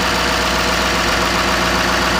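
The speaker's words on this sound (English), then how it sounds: "And there's that powerhouse of a diesel engine, Allison Duramax" A 2014 GMC Sierra with a 6.6 Duramax diesel engine and Allison transmission idles loud and close, giving a constant, even diesel clatter with a deep low rumble and no change in pace.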